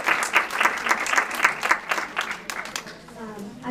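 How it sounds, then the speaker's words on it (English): An audience applauds at a careers talk, a burst of steady, fairly close clapping that swells and then thins toward the end. "Big round of applause."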